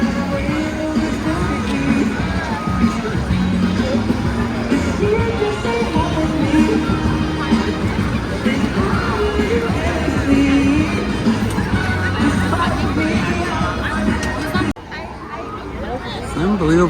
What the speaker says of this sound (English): Unbelievable crowds.